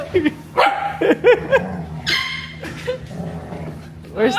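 Golden retrievers at a dog cafe in China bark and yip in close, irregular bursts mixed with whines and a low growl, while people talk and laugh over them.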